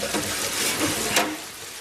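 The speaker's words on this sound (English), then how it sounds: "And you will see water is discharging, no problem." Water draining from a sink bowl down through the trap and waste pipe beside a washing machine connection, a steady rushing gurgle heard close and alone.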